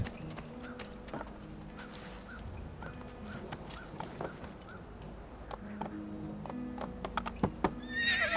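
A horse rears, whinnying and neighing while hooves clop, fairly faint, with a sharper high squeal near the end, in the video game Assassin's Creed 2.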